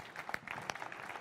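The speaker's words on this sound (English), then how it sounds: "I would like to ask for a big applause to these three excellent startups" Audience clapping for three startups at a fintech conference session in Latin America, a steady patter of hands across the room with a few sharper claps standing out, moderately loud and continuous.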